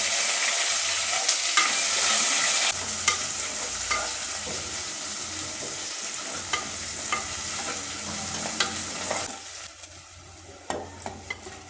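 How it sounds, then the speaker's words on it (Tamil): Shallots and curry leaves sautéing in oil in a pan for sambar: a steady sizzle that drops in level after the first few seconds, with spatula scrapes and stirring clacks growing more distinct near the end. "வதங்கிச்சு வெங்காயம் கருவேப்பிலெலாம்."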